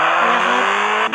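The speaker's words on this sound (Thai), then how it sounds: "ต้องอัดเกียร์1เท่านั้นครับ" A car engine revs hard in first gear, a loud, close, steady roar that holds a high pitch for a moment.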